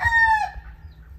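A gamefowl rooster crows loudly up close while hens cluck in the background, the crow trailing off halfway through.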